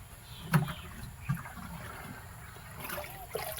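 Water splashed onto a garden compost pile of household scraps, grass and pruning clippings. Faint trickling runs throughout, with a few soft splashes at irregular moments, and no voices.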